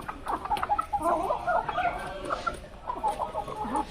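A native desi rooster in Bangladesh clucks repeatedly in short, close, fairly loud bursts with uneven rhythm, with no talking.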